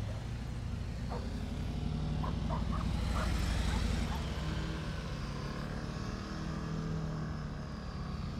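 A motorcycle engine idles and revs gently at low speed during slow riding practice, a steady low rumble with a few brief higher whines in the middle.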